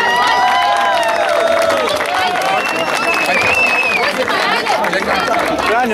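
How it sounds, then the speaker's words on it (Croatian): Crowd at an outdoor tournament award ceremony gives a long, steady round of applause for team Studenci, dense clapping under a busy layer of voices, calls and whistling, close and continuous. "Ja bih vas sad zamolio sve za jedan veliki aplauz za ovu ekipu Studenaca"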